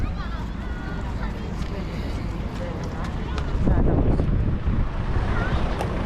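Wind gusting at the harbour in Kato Paphos, Cyprus, a steady broad roar buffeting close by with a swell of water and faint boat sounds, under a voice talking.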